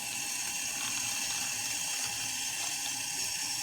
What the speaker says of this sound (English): Let's just go ahead and rinse them off with some water before we take them out.